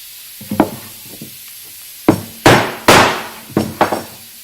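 Sharp hammer blows pound a wood piece into a groove, a few light taps followed by several heavier, ringing hits in an irregular rhythm, close by with no talking.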